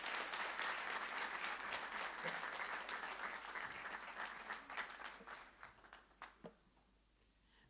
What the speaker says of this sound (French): On peut les applaudir encore une fois, s'il vous plaît.